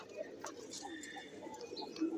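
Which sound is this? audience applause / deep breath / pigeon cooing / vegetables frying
pigeon cooing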